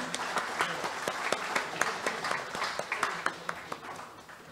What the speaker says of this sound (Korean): 다시 한번 두 분께 큰 박수 부탁드립니다.